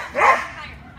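A single short, bright dog bark or yip near the start, with people speaking around it in a casual home setting.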